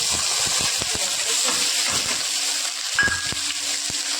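Green chillies hit hot oil with roasted cumin seeds, giving a steady, close, broadband sizzle and hiss throughout, with scattered crackles and pops over a continuous frying wash.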